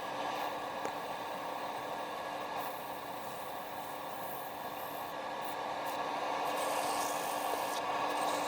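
Sandpaper rubbing the inside of a wooden hollow form turning on a lathe, a steady close broadband rasp that continues unbroken throughout with no talking.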